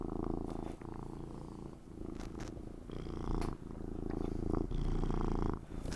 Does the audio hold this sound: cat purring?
yes